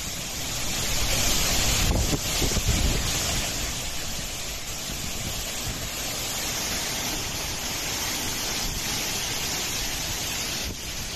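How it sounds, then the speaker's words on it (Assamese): Cyclone Tauktae wind and heavy rain in Mumbai, a loud, steady roar of gusting wind buffeting the microphone with a dense hiss of rain, swelling near the start and holding strong throughout with no talk. "প্ৰবল বৃষ্টিপাত হৈছে, বতাহ ধুমুহা দেখিবলৈ পোৱা গৈছে।"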